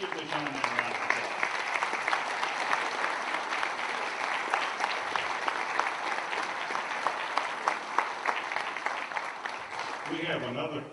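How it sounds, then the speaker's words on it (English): An audience applauds a World War II veteran at a Veterans Day event at a VA medical center, sustained clapping that stays even and full for about ten seconds before fading at the end. "Let's give this young man a round of applause."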